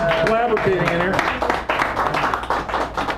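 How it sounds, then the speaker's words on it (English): An audience at a poetry reading in a San Francisco cafe claps for the co-pilot, a scattered patter of applause heard under a speaker's voice, which stays prominent over the brief clapping. "Give him a round of applause."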